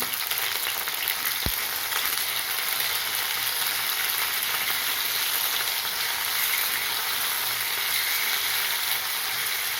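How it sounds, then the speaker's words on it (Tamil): Brinjal pieces sauté in hot oil in a pan for a traditional oil brinjal kuzhambu, giving a steady, loud, continuous sizzle with one brief clink of a utensil early on. "கத்திரிக்காயை வதக்கலாம்."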